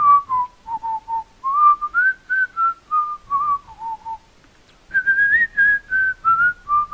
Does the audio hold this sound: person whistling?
yes